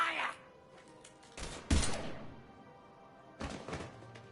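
A few separate loud gunshot bursts ring out in a Mass Effect 3 firefight, each followed by a short decay, with quiet gaps between them.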